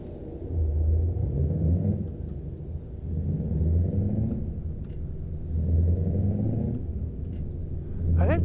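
A Scania truck engine in Euro Truck Simulator 2 rumbles steadily at low pitch, the revs rising and falling in waves as gears change, with a short hiss near the end like an air brake.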